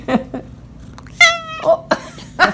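A cat meows near a farm with chickens: a few short chirps, then a drawn-out, tonal meow and several shorter cries, close and clear over quiet background.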